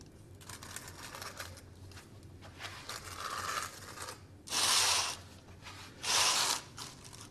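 A hand groover cuts a channel along a vinyl floor seam, guided by a straight edge, in two loud scraping strokes near the end, preceded by quieter rubbing and handling noises.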